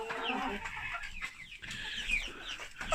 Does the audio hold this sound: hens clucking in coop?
yes